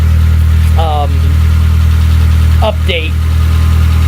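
A 2011 Ford Fiesta engine with a misfire, running steadily at idle with a low, even drone throughout, given a light touch of throttle; someone speaks briefly over it.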